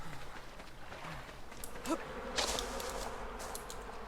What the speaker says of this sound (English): that buzzing noise is going to be annoying after a while